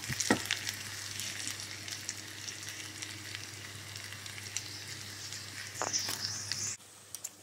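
Sage leaves crisping in hot fat for a butternut squash risotto with bacon give off a steady, close, even sizzle, with a few soft clicks and a brief stir near the end before the sound cuts off.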